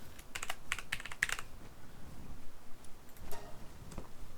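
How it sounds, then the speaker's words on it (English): Keys clatter on a computer keyboard in quick uneven bursts, close and fairly loud, with a pause in the middle before a few more taps, while Pals are named in a modded co-op Palworld session. "Plus, I have the keyboard."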